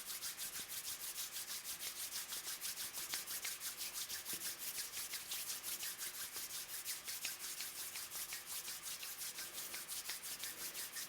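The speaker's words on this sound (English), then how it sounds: "We're going to rub our hands together." Two hands rub briskly together, a steady rapid swishing of skin on skin in regular back-and-forth strokes, close and fairly soft, continuing evenly with no voices.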